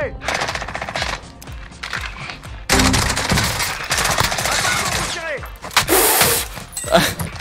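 Gunfire in the video game Warzone, including sniper fire: loud, dense bursts of shots and impacts across the clip, with a sharp, bright crack near the end and game sounds mixed in.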